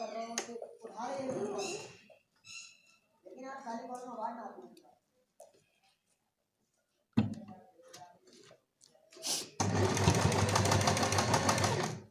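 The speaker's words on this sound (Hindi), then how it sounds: "अब हम इसको सिलाई स्टार्ट करेंगे।" A sewing machine starts stitching a long gown with a loud, steady close whir in the final seconds, after someone speaks and a few clicks are heard.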